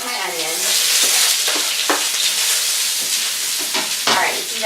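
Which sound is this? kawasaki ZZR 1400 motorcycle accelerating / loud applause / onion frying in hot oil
onion frying in hot oil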